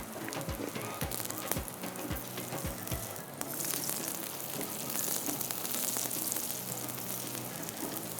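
A paratha frying in desi ghee in a pan gives off a soft, steady sizzle that holds evenly throughout, with a few low knocks early on and no voices.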